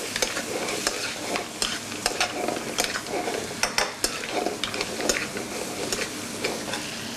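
Blue mussels fry in a pan in a restaurant kitchen, a close, busy sizzle broken by frequent stirring scrapes and clacks, with no talking.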